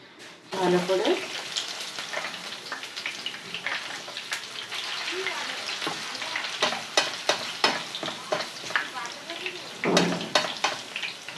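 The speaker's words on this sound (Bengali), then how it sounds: "এবার আমি এইভাবে পরপর সবগুলোকে ভেজে নেব।" Potato chips fry in a pan of hot oil, giving a close, steady sizzle with bursts of bubbling and popping throughout, louder near the start and again toward the end.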